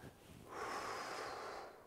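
A long, forceful breath is blown out through the mouth in a singing throat-release exercise, a steady breathy hiss that swells after a brief pause and holds for over a second, close and alone.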